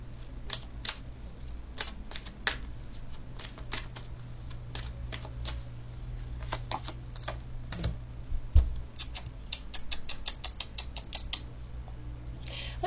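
Cards are shuffled and drawn for a tarot-style reading, producing a run of quick, close clicks and flicks that cluster tightly near the end, with no talking.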